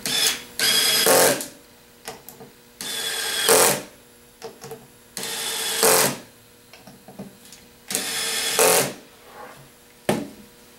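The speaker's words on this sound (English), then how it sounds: "I'm just going to take the screwdriver." A power screwdriver drives screws into a bearing mount support in five or six loud whirring bursts, each a second or two long, separated by short pauses.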